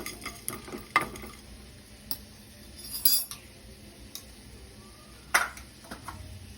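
Cinnamon and cardamom dry roasting in a pan without oil, heard as scattered scraping stirs and light metallic clinks of a spoon against the pan, fairly quiet and close, with no talking.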